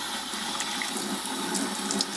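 Water runs through the Hoover Power Scrub shampooer attachment in a steady, continuous splashing flow heard up close with no speech.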